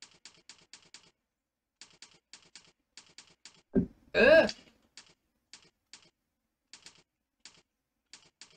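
Typing on a computer keyboard with fingers on the home row: quiet bursts of quick key clicks in short clusters, with a brief spoken interjection partway through.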